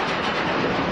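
Steady loud mechanical rumble and rattle of a roller coaster train climbing the lift hill at SeaWorld, constant with no pauses or voices.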